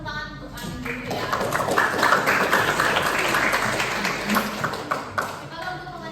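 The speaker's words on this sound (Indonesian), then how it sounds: "Silakan tepuk tangan untuk Ani dulu ya." Classroom students clap for a classmate, a moderate patter of scattered hand claps with a voice speaking over the start and end.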